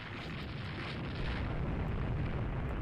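A heavy cruiser's shell hit and explosion in the naval game Rule the Waves 2: a sustained loud, rumbling blast with dense low boom and hiss throughout, with no talk.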